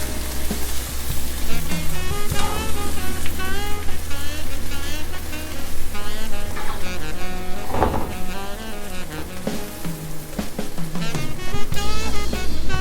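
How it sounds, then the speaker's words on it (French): A pot of lamb tajine simmers in water with a steady crackling, bubbling sizzle. It stays close and even the whole time, with brief clinks and faint background sounds over it. "On remet le couvercle et on laisse mijoter."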